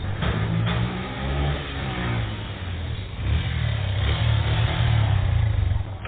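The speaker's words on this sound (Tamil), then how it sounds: "டேய், நான் வண்டி ஓட்டிட்டு இருக்கேன்டா" A vehicle engine drones steadily while being driven, with a low, even hum that swells slightly as it revs partway through, close and continuous with no talking.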